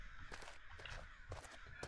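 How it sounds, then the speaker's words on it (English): Crows caw in the horror video game Okaeri: several faint, scattered calls come through a hissy, quiet background. "Why is there a murder of crows there?"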